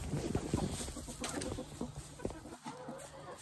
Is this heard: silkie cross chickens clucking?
yes